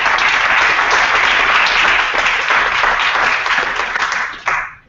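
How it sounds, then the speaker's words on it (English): Steady, dense applause from an online alumni panel audience thanking the panelists, holding loud and even for about four seconds before trailing off with a last burst and cutting out. "Can we give them a round of applause?"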